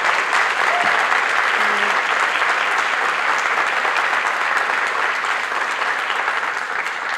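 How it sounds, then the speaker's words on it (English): Sustained applause from an audience honoring students at a high school senior honors and military recognition ceremony, steady and dense throughout without a break. "let's give these students one last round of applause"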